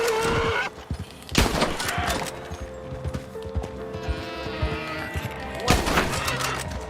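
Gunfire from Red Dead Redemption 2 online play, with a few loud sharp shots spread through a busy game soundscape that also carries horse hoof clops and background noise.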